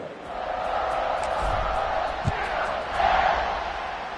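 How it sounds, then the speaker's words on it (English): Stadium crowd roaring at kickoff in the College Football 25 video game, a steady distant wash of cheering that swells slightly toward the end, with a single thump partway through. "this crowd now ready to get behind them"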